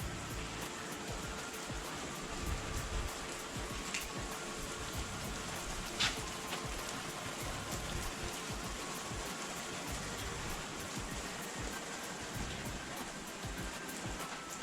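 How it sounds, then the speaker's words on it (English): Heavy rain falls in a steady, even hiss that stays at a moderate level throughout, with small bursts of louder patter and no voices. "oh man, we're getting some serious rain."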